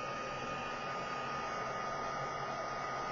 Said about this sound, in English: if you use your heat gun